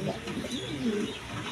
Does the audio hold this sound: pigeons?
yes